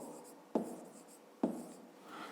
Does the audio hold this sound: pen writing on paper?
yes